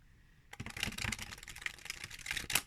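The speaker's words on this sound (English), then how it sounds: "it gave me maybe a little bit of difficulty with the riffle shuffle." A new deck of Faeries and Magical Creatures tarot cards is riffle shuffled for the first time, a sudden dense burst of rapid, crisp card flutters and clicks lasting about two seconds, close and fairly quiet.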